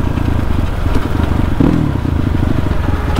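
A motorcycle engine with a modified exhaust that sounds full and deep, running steadily up close with a continuous low throbbing rumble and some mechanical clatter, and no talking.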